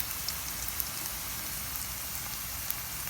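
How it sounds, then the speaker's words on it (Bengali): Onions fry in a pan for egg korma, giving a steady, even sizzle and crackle like light rain, with occasional sharper pops and no talking. "তো এই যে আমি একটু লাল করে ভেজে নিচ্ছি"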